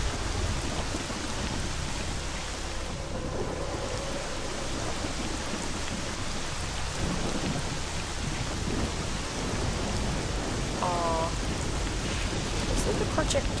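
Thunderstorm in a video game, with dense steady rain hissing throughout and rolling thunder rumbling low underneath, a continuous wash of weather sound without a sharp single crack.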